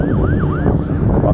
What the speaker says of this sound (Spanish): No, viene atrás la ambulancia.